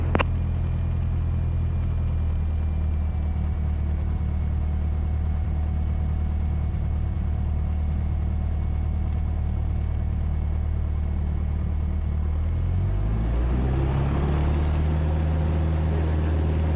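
A small propeller airplane takes off from a runway. The engine and propeller roar loud and steady from inside the cabin, and the drone deepens and rises in pitch near the end as power builds.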